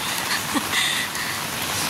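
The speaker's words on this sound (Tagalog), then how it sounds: "Ang lakas ng ulan." Steady, dense hiss of heavy rain falling, a constant wash of sound with no voices.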